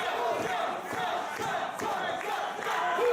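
Wrestling crowd at an independent show roars and cheers in a sustained, dense wall of voices with swelling shouts, loud and continuous throughout.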